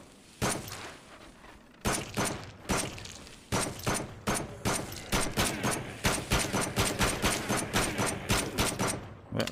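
Gunfire rings out in a VR zombie shooter game, first as a few spaced single shots, then as a rapid, steady rhythm of loud, sharp reports that continues to the end, with no talking.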